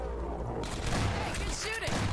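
Gunfire in the video game Half-Life 2: Episode One: a rattling run of shots and thuds up close, mixed with game noise and voices underneath.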